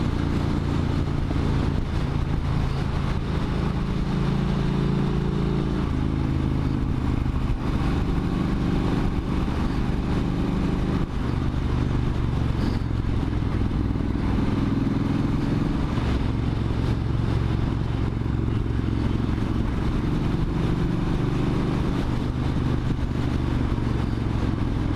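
Triumph Street Cup motorcycle ridden along a winding road in Wales, a steady engine drone with shifting revs heard close under constant rushing wind noise.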